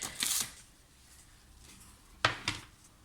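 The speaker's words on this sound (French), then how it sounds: "Je viens décoller, enfin, enlever la protection du double face." Protective backing being peeled off double-sided tape while making a scrapbooking card, giving a couple of short, close ripping bursts separated by a quiet pause.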